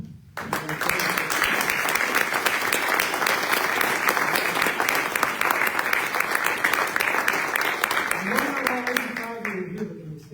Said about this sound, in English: I would really like to applaud them